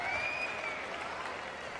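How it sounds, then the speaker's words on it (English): Applause from a crowd at a college men's basketball game, greeting seniors as they come out: a steady wash of clapping, fairly distant and even throughout. "when these seniors come out, got to give them a hand."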